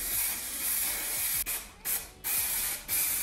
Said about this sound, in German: Wenn man es zu nah nach unten sprüht, dann bilden sich so Bobbel und es sieht nachher blöd aus.